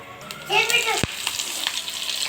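Cumin, mustard seeds, chana dal, urad dal and curry leaves sizzling in hot oil for a tempering, a close bright crackling fry with a sharp clack of a utensil partway through.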